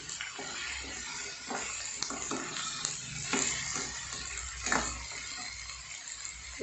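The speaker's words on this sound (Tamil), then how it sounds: "இப்போ நல்லா கிளறி விட்டுக்கிறேங்க." Vegetable white kurma with peas being stirred in a pan, a steady soft scraping and gentle sizzle with occasional spoon clinks, close and fairly quiet, no voices.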